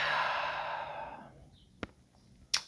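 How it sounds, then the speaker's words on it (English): A deep breath during meditation, a long breathy exhale that trails off into quiet, followed by two small soft clicks, heard up close with no talking. "Take a few deep breaths. One more deep breath."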